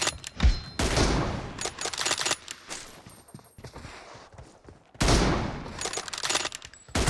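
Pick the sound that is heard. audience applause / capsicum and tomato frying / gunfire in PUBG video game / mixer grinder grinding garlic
gunfire in PUBG video game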